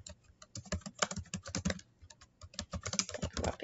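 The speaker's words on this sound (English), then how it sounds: "So I'll just start typing some things." Rapid typing on a computer keyboard, close and clear, with irregular bursts of clicking keys broken by short pauses.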